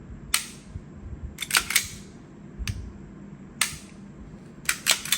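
An airsoft BB gun Glock pistol with a steel slide is test fired, giving sharp, loud snapping shots, singly and in quick doubles and triples, spaced across a few seconds with no talking.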